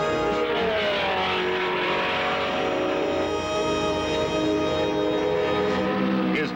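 A 1966 Indy 500 race car on a qualifying lap at the Indianapolis speedway roars in a loud, sustained engine whine with shifting pitch as it passes, while a narrator speaks over it.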